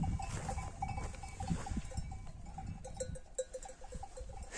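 Sheep and lambs on a cold village farm, with a faint bleat rising over a steady murmur of livestock noise and a distant tinkling bell, the flock heard from a moderate distance.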